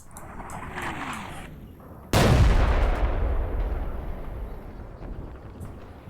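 In Combat Mission Red Thunder's Seelow Heights battle, a tank's coaxial machine gun opens up with a sudden loud burst that rolls into a long rumbling tail, following a stretch of quieter battlefield ambience.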